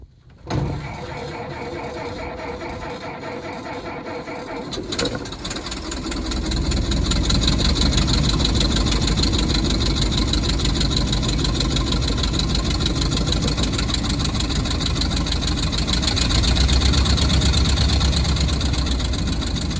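A cold 1921 Ford Model T pickup, converted from a sedan, is started with a heel-pressed starter at low throttle. It cranks for a few seconds, catches, then settles into a loud, steady, close-up idle.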